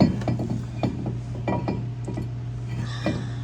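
A brake rotor is handled and fitted onto the rear hub of a 2007–2014 Ford Edge, producing light metallic clinks and scrapes over a steady low hum, with no talking.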